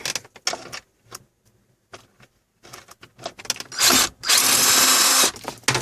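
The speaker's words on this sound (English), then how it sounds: "you're going to grab the drill." Scattered clanks and metallic rattles, then loud, close bursts of a power drill whirring in two long runs as it removes a bolt on a 2002-2007 Buick Rendezvous.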